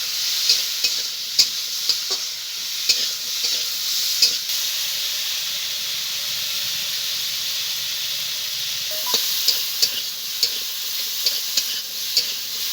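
Steady sizzling of potato and plantain frying in oil, with intermittent clacks of a utensil stirring the pan. No talking.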